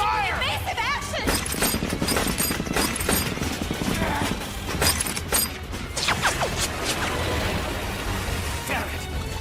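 A skirmishing line of soldiers in a dubbed period drama opens fire, producing dense, loud, overlapping gunshot bursts and crashing impacts, with voices shouting beneath the din.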